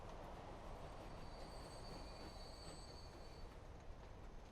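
A food train in the Transport Fever game rolls along with a steady, dense rumble and faint high wheel squeal, distant and unbroken, with no voices.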